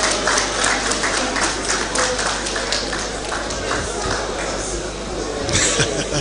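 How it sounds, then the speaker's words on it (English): Applause for a guest at a school founders' day dinner marking Eko Boys High School's 105th anniversary: dense, sustained clapping from a crowd filling the room steadily, swelling slightly near the end, with voices mixed in. "A round of applause for Mrs."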